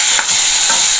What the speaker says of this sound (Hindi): हमने बारीक टमाटर काट लिए हैं, इनको डाल देते हैं।